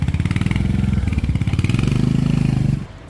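A motorcycle engine putters close by in a steady, rapid pulsing rhythm as the bike is parked, then cuts off abruptly near the end, leaving only quiet background.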